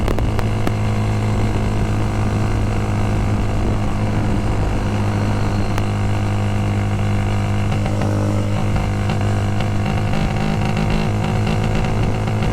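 A Kawasaki ZX6R motorcycle engine drones steadily while riding, a loud, constant hum with wind rush throughout and no pauses or speech.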